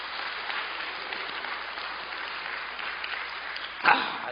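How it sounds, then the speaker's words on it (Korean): Church congregation during a Korean sermon gives a round of applause, a moderate steady patter of clapping that holds evenly, with a brief louder knock near the end. "이럴 때 우리 예수님 박수 한번 쳐드리면 좋은데"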